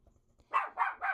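A dog barks three times in quick succession, close and fairly loud, with no talking.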